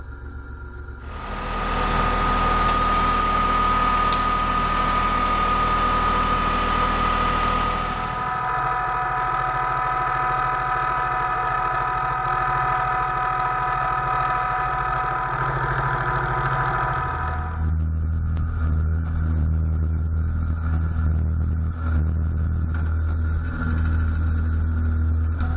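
A Kubota tractor engine drags a large branch out of a creek with a logging chain. It drones steadily at mid pitch, dropping to a lower, rougher tone partway through and changing again near the end.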